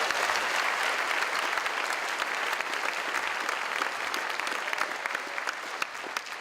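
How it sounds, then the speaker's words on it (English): Steady, dense applause from a large crowd at a spring 2017 commencement ceremony, sustained and even for the whole stretch with no pauses. "please, give yourselves a round of applause because you deserve it"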